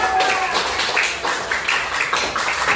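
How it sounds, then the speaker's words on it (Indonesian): A primary school class claps their hands in a short burst of brisk, uneven clapping that fills the room for a few seconds. "Tepuk tangan dong"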